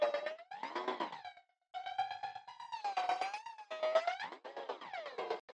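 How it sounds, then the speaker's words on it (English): Weird granular synth noises made from a one-shot sample run through a granulator, wavering and pitch-sliding in siren-like bursts with brief gaps, alone without any voice. "I pulled in a one shot into granulator to create these really weird noises."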